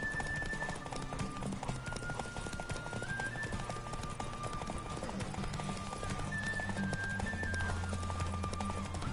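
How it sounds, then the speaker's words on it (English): Horse hooves clip-clop steadily in The Witcher 3, a continuous run of even, close hoofbeats layered over a sustained tonal game score. "Why are there fucking horses standing right there?"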